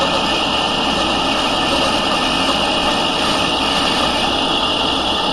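A metal lathe runs through a turning cut about ten thousandths deep, giving a loud, steady, unbroken machine hum and whine at close range with no pauses.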